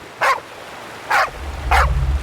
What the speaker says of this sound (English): And he starts barking at Nerozi